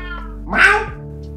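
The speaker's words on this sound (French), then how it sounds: "Mon chat est en train de me répondre en 4K Full HD là." A house cat lets out one short, strained meow up close, a single rising-then-falling cry over a constant low background hum.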